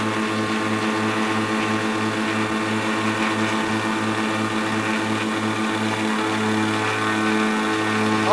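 A twin-engine aircraft's piston engine, a 414 with an overboost fault, running steadily with throttle raised to about 22 hundred RPM, giving a loud, even droning hum with a pulsing beat and a slight rise near the end.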